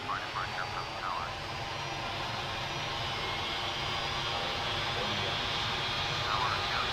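Steady broadband jet engine roar from a Ryanair Boeing 737 taxiing to the runway, a constant close cabin-side drone with faint chirping tones drifting over it.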